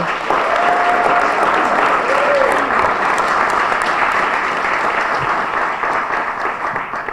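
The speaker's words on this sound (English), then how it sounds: "we do deserve to give another round of applause to our elected officials" An audience at the City of Lawrence 2020 inauguration ceremony gives elected officials a round of applause, loud and sustained clapping that fades slightly near the end.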